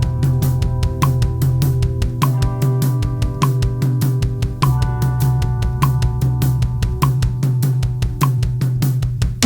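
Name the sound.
drum rudiment with kick and hi-hat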